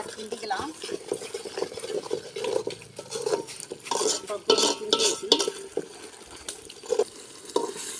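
Biryani masala being stirred in a pot, soft scraping and rustling strokes repeating steadily at close range, with faint clinks of the spoon against the metal.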